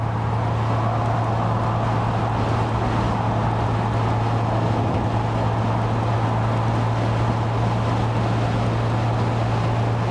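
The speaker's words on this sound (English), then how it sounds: "there's plenty of wind in the hair and quite a lot of wind noise and road noise" Steady, loud rush of wind and road roar inside an open-cockpit car without wind deflectors, a constant low engine hum beneath, with no talking.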